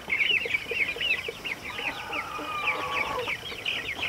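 Broiler chickens in a fattening pen cluck and chatter continuously, several birds close by making overlapping short calls with a few drawn-out notes, and no one speaks.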